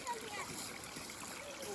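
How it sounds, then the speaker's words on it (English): A big splash into water along a springtime forest trail, a burst of spray and sloshing heard up close over a steady rushing stream, with children's voices around it. "That was a big splash."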